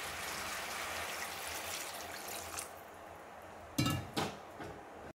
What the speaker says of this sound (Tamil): இப்போ இந்த புளி தண்ணியை ஊற்றிக்கலாம்